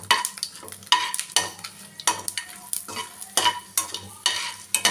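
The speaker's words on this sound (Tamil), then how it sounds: "இப்போ கடுகு பொறிஞ்சிட்டு நான் எடுத்து வச்சு காஞ்ச மிளகாயை சேர்த்துன்றேன்" Mustard seeds and dried red chillies frying in hot oil for a curry leaf thokku, stirred briskly with a metal spoon: rhythmic scraping strokes against the pan over a continuous close sizzle.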